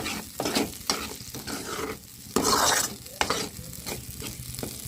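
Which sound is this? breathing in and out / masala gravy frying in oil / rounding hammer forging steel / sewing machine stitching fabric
masala gravy frying in oil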